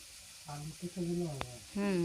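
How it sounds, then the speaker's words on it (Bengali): Radish and potato frying together in a pan at home, a quiet sizzle running under people talking nearby. "মূলা ভাজি, মূলা আর আলু একসাথে দিচ্ছি"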